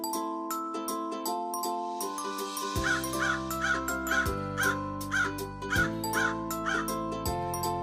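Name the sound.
crow cawing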